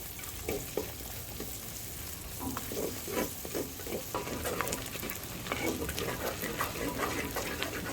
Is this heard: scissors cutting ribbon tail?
no